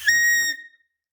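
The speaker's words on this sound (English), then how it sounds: "now when you blow into it, it just sounds really high pitch." A sharp, high-pitched whistle made by blowing into a dirt bike exhaust with its air horn missing, one short close tone that quickly fades to silence.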